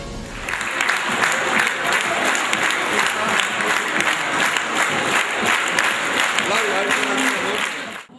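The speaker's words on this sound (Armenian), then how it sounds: "ծափողջույններով Օծունի մշակույթի տանը դիմավորում են Արցախյան ազատամարտի հերոս" Sustained, dense applause from an audience greeting a war hero at the house of culture in Otsun, Armenia, loud and steady throughout, with voices mixed in beneath it.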